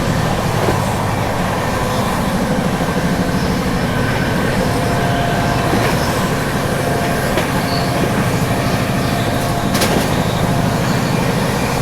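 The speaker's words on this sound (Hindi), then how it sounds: "फिलहाल यहाँ पे अपनी क्रॉसिंग होगी बीकानेर हावड़ा एक्सप्रेस से।" An Indian express train, the Bikaner Howrah Express, passes on an adjacent track during a crossing, heard as a loud, continuous rail roar with rhythmic wheel clatter and occasional squeals throughout.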